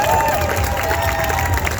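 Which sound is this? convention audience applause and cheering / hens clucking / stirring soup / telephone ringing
convention audience applause and cheering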